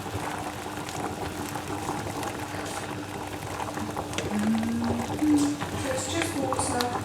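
Dumplings cook in a pot of plain boiling water, a gentle bubbling and sloshing simmer heard near, with a brief scrape and liquid movement.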